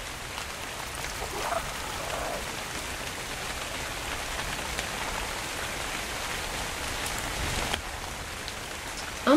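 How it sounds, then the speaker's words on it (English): Rain pours steadily over desert ground in the video game ARK: Scorched Earth, a constant broadband patter that stays level throughout, heard alone with no talking. "It's raining in the desert."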